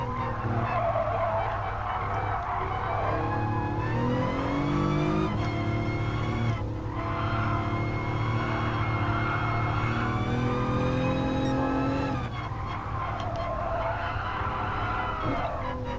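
A race car in Gran Turismo Sport with its engine note dropping through downshifts and its tires squealing under braking, a loud, continuous whine with shifting harmonics and no voices.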